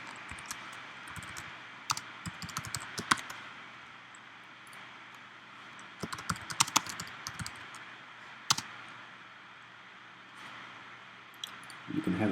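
Keys clicking on a computer keyboard as an alert name is typed, sparse light taps in short bursts over a steady background hum, with a few louder clicks near the end.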